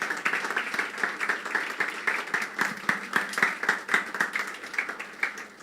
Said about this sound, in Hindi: यीशु के लिए हम ज़ोरदार तालियां बजाएंगे